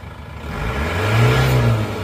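An Isuzu Panther diesel engine, said to have low compression, revs hard close by, its rough mid-range drone swelling to a peak and then easing off over about two seconds with no talk.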